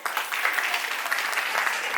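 An audience at a cultural gathering claps together in sustained, dense applause, steady and fairly loud throughout the brief stretch.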